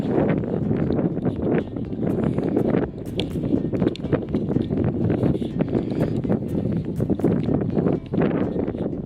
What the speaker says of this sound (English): Oh my days, it's cold and windy.